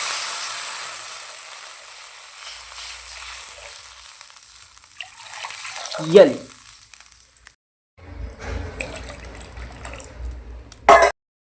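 Water poured into a pan of frying potatoes, steady sizzling that rises into a loud hiss and bubbling, with a voice speaking briefly and a cough or throat clearing.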